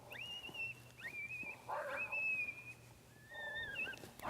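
An electronic predator caller plays an aggressive coyote fight sound outdoors during a coyote hunt, with thin wavering howls and yips plus brief growly bursts, fairly faint and distant over steady background hiss, no talking.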